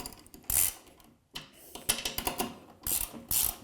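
A wrench tightens the last bolt joining a MEC 100E ATA target thrower to its trailer, giving close, clicking ratchet bursts broken by short pauses.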